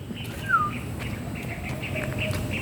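A bird gives a single brief chirp against an outdoor background of faint calls and ambient noise.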